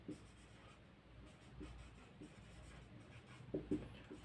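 Faint scratching of a pen or marker writing out notes during a chemistry lecture on molecular orbital theory, soft irregular strokes with a few louder taps near the end.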